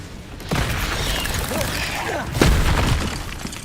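The Bombarda spell explodes in the video game Hogwarts Legacy amid dense, noisy combat. Two loud booming bursts stand out, the second one heavier, over a constant rumble of game effects.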